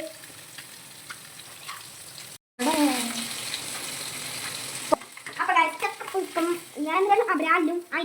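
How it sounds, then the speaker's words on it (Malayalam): Fish frying in a pan with salt, crackling and sizzling steadily, with a brief cut partway through and people talking over the later part. "നമ്മുടെ മീൻ കുട്ടൻ കിടന്ന് കരിയുന്നു, അല്ല മൊരിയുന്നു"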